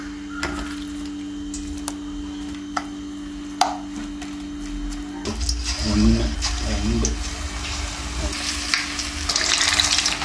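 Oil sizzles and spits in a pan, quiet at first, then louder bubbling and crackling as marinated snakehead fish pakora goes in, with clinks of utensils and a steady hum behind.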